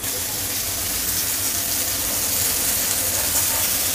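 Bombil fish sizzle in hot oil in a pan over a raised gas flame, a steady, dense, close hiss of frying that holds evenly throughout with no talking.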